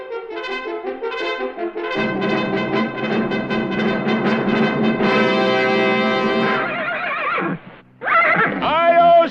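A loud, shrill horse whinny rings out over dramatic orchestral music in a 1980 Lone Ranger cartoon, followed by a short break and another bright burst.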